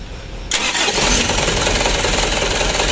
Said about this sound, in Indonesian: Ya intinya mesin ini sudah hidup.